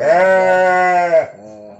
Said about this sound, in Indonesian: Mungkin domba banyak jenisnya, dari mulai domba Garut, domba kacang, domba yang biasa.